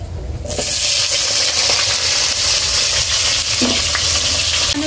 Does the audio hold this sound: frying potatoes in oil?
yes